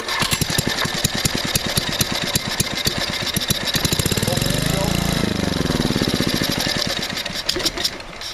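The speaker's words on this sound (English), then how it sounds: "But it's no good as a generator running only 5 seconds." A small gas generator engine with its choke closed sputters and runs roughly for a few seconds, loud and close, its pitch rising then dropping as it falters and dies, with speech over it.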